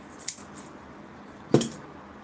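Scissors snipping bonsai roots, two crisp close cuts about a second apart, the second louder, over quiet background.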